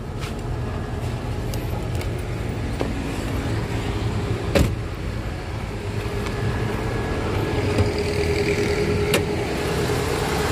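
A 1995 Toyota Starlet's engine idles smoothly and steadily nearby, a low even hum with a couple of faint clicks and a sharp knock partway through.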